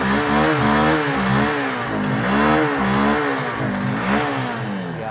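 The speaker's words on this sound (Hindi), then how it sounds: "इंजन साउंड सुनो, एग्जॉस्ट नोट सुनो, थ्रॉटल लेता हूँ" A Honda Hornet 2.0 motorcycle's engine and exhaust rev repeatedly, each throttle blip rising and falling in pitch. The bursts are loud and close, about five in a row, with no talking.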